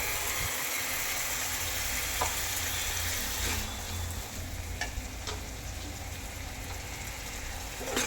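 Sour curd with cashew and poppy seed paste sizzles steadily in a hot pan, a dense continuous frying hiss with a few sharp clicks of a utensil scraping or tapping the pan.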